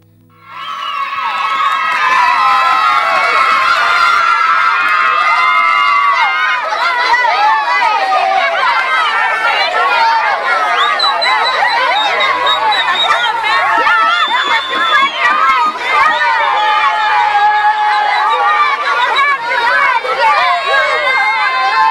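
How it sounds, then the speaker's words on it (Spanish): A crowd of children cheers, shouts and celebrates, a loud, dense, continuous din of high excited voices with jumping and clapping mixed in, sustained for the whole stretch. "estaban todos los niños eufóricos, celebrando, saltando, aplaudiendo"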